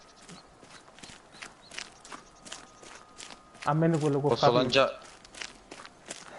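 A character's footsteps in the PS4 fishing game Euro Fishing, a soft, steady run of steps under Italian talk, with a louder burst of voices partway through.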